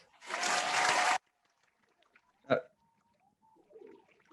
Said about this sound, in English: So we had that round of applause